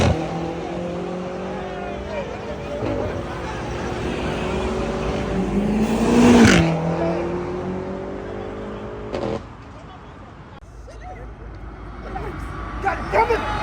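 Dodge Hellcats and BMW M5s pull away at a night car meet at a fuel station in Mexico, with engines rumbling and one rising rev swelling loudly before fading, while people talk over the noise.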